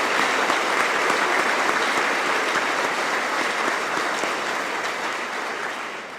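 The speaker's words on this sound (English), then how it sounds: "Let's give them a round of applause." A graduation audience at the Lake Mills High School Class of 2018 ceremony applauds its co-valedictorians, a dense, steady wash of clapping that fills the room and fades slightly toward the end.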